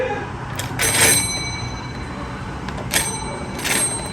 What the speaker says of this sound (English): here's a doorbell